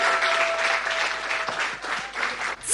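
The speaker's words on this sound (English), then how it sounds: "Keep the applause going, please." Sustained crowd applause for an award winner at a farming awards event, dense steady clapping from a large audience that holds level then briefly dips near the end.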